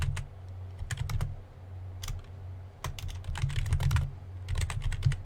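Fingers type on a computer keyboard in bursts of quick, close key clicks with short pauses between runs, as a word is deleted and retyped; no speech is heard.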